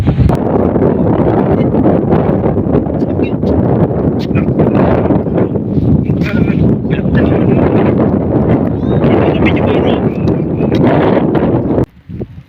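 Strong wind buffets the microphone in a loud, continuous rumbling roar while fishing, with rustling and a voice partly buried beneath it.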